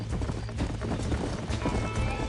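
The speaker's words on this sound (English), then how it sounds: "These are fine horses." Horses in Red Dead Redemption, clip-clopping hooves in a steady close rhythm under game ambience, with a faint voice in the background.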